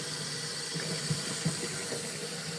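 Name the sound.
hot water running from a tap into a slop sink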